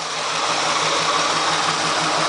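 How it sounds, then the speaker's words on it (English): A 1971 Buick Centurion's original, never-overhauled 455 V8 idles steadily up close, a continuous even rumble with a faint regular pulse and no talking. "So the engine runs pretty good actually."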